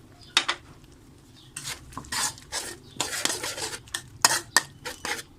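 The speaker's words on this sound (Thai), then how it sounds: "คนทุกอย่างให้เข้าเนื้อกันค่ะ" A utensil stirs a chili sauce of ketchup, sugar, pepper and water in a pot, giving repeated close scraping and clinking strokes in an uneven rhythm, loud and without any talking.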